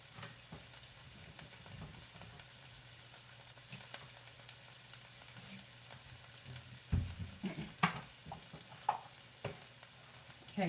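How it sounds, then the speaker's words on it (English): Onions and carrots sauté in a hot pan with a steady low sizzle, and occasional stirring clacks and scrapes come through more often toward the end. No voices. "we got our onions and carrots in the pan sauteing."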